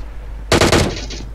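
A short, loud burst of rapid automatic gunfire in the PUBG Mobile video game, with several shots fired close together and a brief tail after them, and no talking over it.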